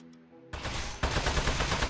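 Gunfire in the video game Aperture Desk Job breaks out after a short quiet moment, a loud, dense burst of rapid shots that carries on steadily to the end.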